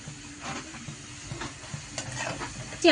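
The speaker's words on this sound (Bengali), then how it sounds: "আলু ভাজা হয়ে গেছে এবার আমি মশলা দিয়ে দেবো এক এক করে" Spices hitting fried potatoes in hot oil give a soft, continuous sizzle and hiss with a few faint stirring scrapes, fairly quiet and without talk.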